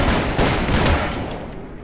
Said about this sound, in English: What the hell is shooting at me now?